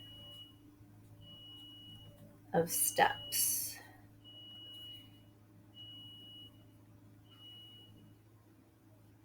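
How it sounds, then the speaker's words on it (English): A smoke detector gives short, faint beeps repeating at steady intervals of about two seconds, with brief quiet speech in the room. "The beeping's going to be the death of me today."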